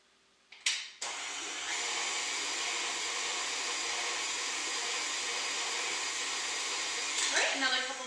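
An electric mixer beats carrot cake batter with a steady, loud whirring drone after a few clicks and knocks as it starts, with a brief rattle near the end.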